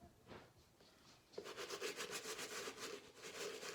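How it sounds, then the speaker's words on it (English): A sneaker is scrubbed in circles with a medium-bristle brush. A faint, quiet rubbing is followed by a louder, steady rhythmic bristle scrape that continues close up with no talking. "I scrub it in circles just to like really get in there."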